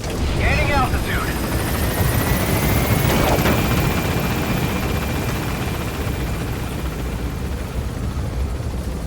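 A military helicopter gains altitude in Metal Gear Solid V: The Phantom Pain, rotor beating loudly and steadily throughout, with a short burst of voice near the start.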